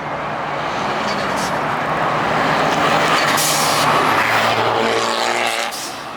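A loud car engine revs up at a car meet and roars as it accelerates away, the noise building to a peak before fading at the end.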